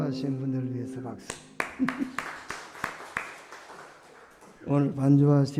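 Churchgoers applaud the musicians at the end of a Sunday morning worship service. The clapping is scattered and uneven, runs for a few seconds, and has spoken voices before and after it.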